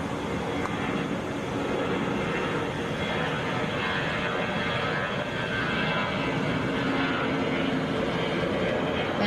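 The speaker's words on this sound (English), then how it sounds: "That is Delta 2200 going to Columbus, Airbus A320." A Delta Airbus A320 airliner at Atlanta produces a steady, fairly faint jet engine rumble and hiss, continuous throughout with no speech.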